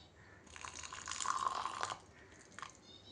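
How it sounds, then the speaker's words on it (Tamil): Milk poured into a cup of South Indian filter coffee, a soft liquid splash and trickle lasting about a second and a half, fairly quiet and close, followed by a faint drip. "இப்போது பால் ஊற்றிக்கலாம்."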